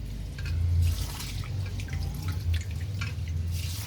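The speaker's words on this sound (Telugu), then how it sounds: "ముందుగా రైస్ని నీట్గా వాష్ చేసుకుందాం" Rice is washed by hand in water, with gentle sloshing and dripping against a steady low hum of background noise.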